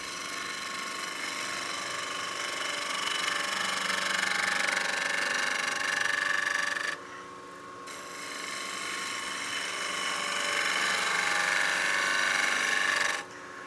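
A bowl gouge scrapes a poplar platter turning on a wood lathe, giving a steady, hissing, grinding scrape over the lathe's hum, with two brief breaks in the cutting.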